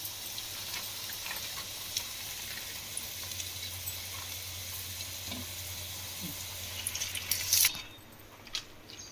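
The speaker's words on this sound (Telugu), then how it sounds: "ఒక్కొక్కటి కాల్చుకుంటూ ఉండాలి." Bottle gourd vadas (sorakaya garelu) fry in hot oil, giving a steady, close sizzle with small pops that runs evenly for about eight seconds, then drops off abruptly to a quieter hiss.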